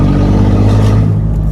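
An old pickup truck's engine runs rough and loud after a bump, likely with the exhaust fallen off, giving a steady, heavy low rumble like a tractor close by.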